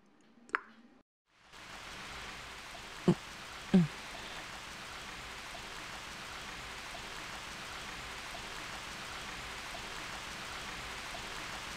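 Rain in the video game Trails of Azure starts after a short click and moment of silence, then settles into an even, constant patter with a couple of distinct drips near the start.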